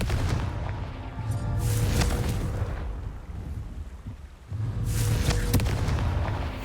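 The Confringo fire spell from the Hogwarts Legacy video game goes off as loud, booming explosions with rumbling blasts and crackling debris, swelling and fading twice in close succession.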